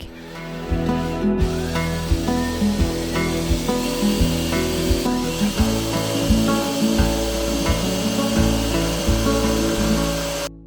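A power driver whirs in repeated bursts as screws bite into a wooden batten of a bed frame, with pauses between each drive and a steady mechanical hum.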